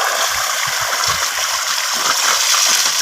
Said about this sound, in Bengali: পাতাল থেকে জল বার করবো,